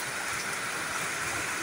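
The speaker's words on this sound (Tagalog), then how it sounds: "Ang lakas na ng ulan dito par." Heavy rain pours down steadily at a pigeon racing arrival site in Talavera, Nueva Ecija, a dense continuous hiss with no gaps or voices.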